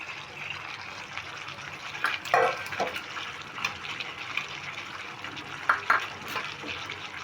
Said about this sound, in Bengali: এবার এই বাটিগুলো ধুয়ে আমি একটু জল দিয়ে নিচ্ছি